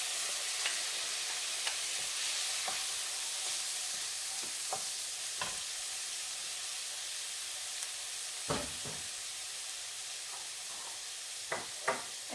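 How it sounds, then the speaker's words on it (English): Spinach goes into a hot pan for a keto quiche, setting off a soft, steady frying hiss over about twelve seconds, broken by occasional light taps and clicks of utensils against the pan. "I'm going to just put some of the spinach in there"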